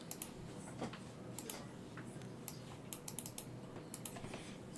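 Fast, light clicks of typing on a computer keyboard, irregular taps in quick clusters with brief pauses, fairly close and quiet, no talking.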